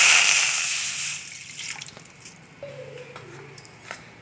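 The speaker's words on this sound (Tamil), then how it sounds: "இப்போது ஸ்டவ்வில் வானலை வச்சு கொஞ்சம் தண்ணி ஊற்றிக்கலாம்." Water poured from close by into a frying pan on a stove, a loud rushing splash at the start that fades into soft trickles and drips.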